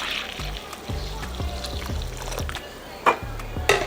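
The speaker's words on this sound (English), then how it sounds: "we're gonna add about 2 to 3 cups, depending on how much you're making, of that shrimp broth" Shrimp broth poured into a shrimp cocktail mixture, an uneven low gurgling trickle with a few sharper clinks of containers near the end.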